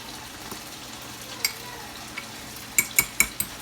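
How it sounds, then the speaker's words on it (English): A spoon stirs a butter and ranch mixture in a bowl, a few soft scrapes followed by several sharp clinks against the side near the end. "We're gonna stir this up."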